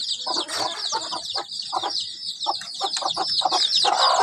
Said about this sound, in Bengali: দেখছে সবগুলো কিচির মিচির করে ডাকছে।